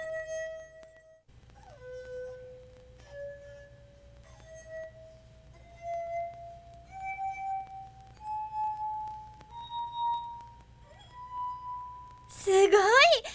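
Water-filled glasses tuned to a musical scale ring one after another as sustained clear tones rising step by step in pitch, each struck note ringing out alone, ending with a brief burst of louder noise.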